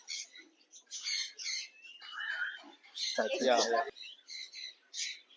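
Cockatoos and other birds at a bird park squawk and screech in repeated harsh bursts, close and loud, with one long raucous call in the middle and a brief murmur of voices.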